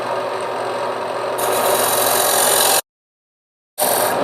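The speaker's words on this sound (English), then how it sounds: "I'm going to use my skew chisel, create a slight dovetail tenon in here that I can grab with the bigger chuck." A skew chisel cuts a dovetail tenon on a spinning wood lathe while turning a hollow vessel, a continuous scraping hiss that grows louder partway, then cuts out briefly before resuming.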